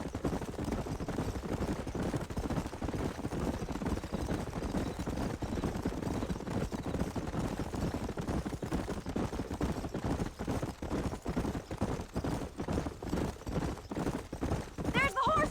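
Horses galloping in the video game Red Dead Redemption, a steady rapid clip-clop of hooves running through the whole stretch, fairly loud and close, with game characters talking over it.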